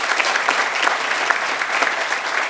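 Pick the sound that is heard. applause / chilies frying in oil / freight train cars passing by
applause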